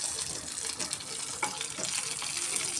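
Curry leaves are dropped into hot oil in a pan and crackle in a steady, fairly quiet sizzling hiss that carries on throughout.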